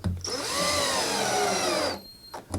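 Power screwdriver snugging screws down into the plastic housing of an RCF HDM45A speaker, one sustained whirring run with a rising and falling pitch, close and loud, then a short second buzz after a pause.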